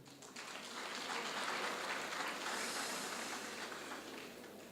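Sustained applause from a crowd at a college graduation ceremony, a dense steady wash of many hands clapping at moderate distance with no talking over it.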